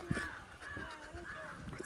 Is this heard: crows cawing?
yes